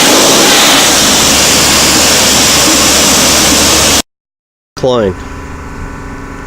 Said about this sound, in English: Pressure washer cleans it off nicely.